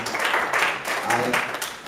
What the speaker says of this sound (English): how about a round of applause for all of our accomplishments?